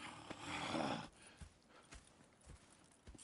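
Horses in Red Dead Redemption 2 clop along at a walk, a few distinct hoofbeats over a quiet background, with a brief softer rustle at the start.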